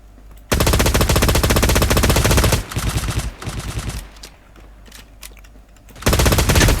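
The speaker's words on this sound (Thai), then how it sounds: "มันยิงกันอยู่ มันยิงกันอยู่ยังไม่รู้เรื่อง" Video game gunfire roars in long, loud, continuous machine-gun bursts. A sustained volley is followed by choppier, quieter shots and then another full burst at the end.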